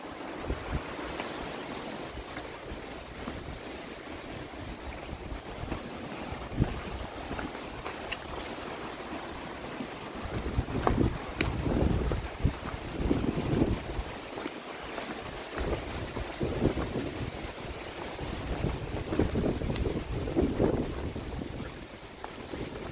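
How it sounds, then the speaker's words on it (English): Gusty wind buffeting the microphone on an exposed cliff-edge section of the Appalachian Trail at Tinker Cliff, a steady low rush that swells louder in the second half, with no talking. "It's windy."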